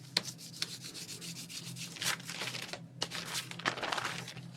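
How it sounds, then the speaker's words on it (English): A bone folder pressed and rubbed firmly across paper during a Gelli plate printing session, giving close, dry sanding-like strokes in several bursts over a steady low hum. "Give that a good press down with my bone folder"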